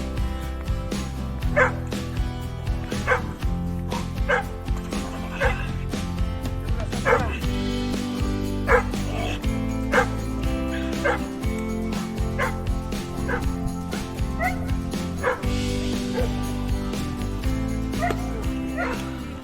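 Dogs bark and yip repeatedly at a moderate distance, the barks scattered over a dense, steady rumbling background.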